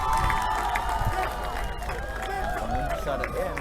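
Fans in a gym cheering at a university basketball finals game, a lively crowd roar with rhythmic chanting and shouts under a commentator's voice, plus sneaker squeaks from the court.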